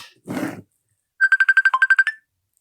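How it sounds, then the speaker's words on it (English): A mobile phone rings for an incoming call, a bright electronic ringtone of about a dozen rapid, evenly spaced pulses, loud and alone, after a brief rustle. "So Dunner's calling me, so let's get him on the phone"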